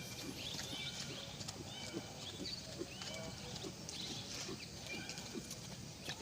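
A horse trots on a lunge line across a slippery, rain-soaked riding field in West Bandung, its hoofbeats a steady clip-clop rhythm at moderate distance, with birds and outdoor ambience behind.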